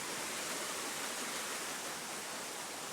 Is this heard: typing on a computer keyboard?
no